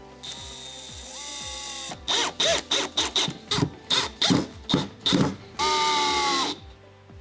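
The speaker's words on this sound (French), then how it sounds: "à l'aide de votre visseuse et d'un embout cruciforme, cette fois-ci, vous allez venir visser le système de fixation à la façade" A cordless screwdriver fitted with a Phillips bit drives screws to fix an oven unit's mounting to its door front, heard as a long whirring run, then a burst of short stuttering pulses, then a final sustained whir, close and with no talk.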